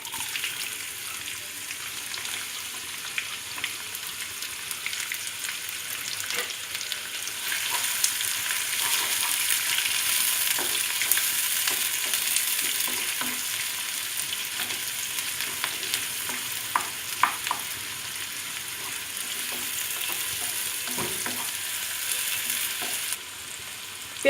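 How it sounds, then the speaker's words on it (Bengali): Onions fry in a pan for shahi chicken korma, a steady close sizzle with soft stirring scrapes and occasional pops, no voices. "পেঁয়াজটা দিয়ে দিচ্ছি।"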